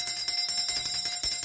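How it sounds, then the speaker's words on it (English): A bell is rung for a salute to Obatala: quick, repeated metallic strikes ring close and fairly loud in a steady jangling rhythm. "I got the freaking bell down over here."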